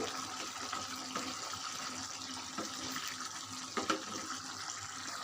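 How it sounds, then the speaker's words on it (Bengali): Broth is poured into a rui fish curry cooking in a pan, a continuous soft stream of liquid with faint splashy bumps running for several seconds, close and steady, without any talking. "এখন আমি ঝোল দিয়ে দিব না হলে আমার তরকারি নিচে লেগে যাবে"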